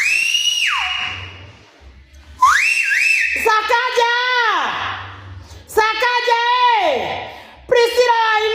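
A woman whistles in several loud, close phrases of sliding, swooping tones with short gaps between them, the later calls warbling and falling in pitch, while faint voices sound underneath.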